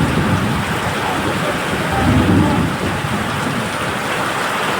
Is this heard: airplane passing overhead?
no